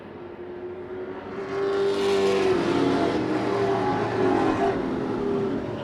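Race cars roaring around the oval at Wiscasset Speedway, engines swelling louder as the pack passes close, with a sustained droning whine.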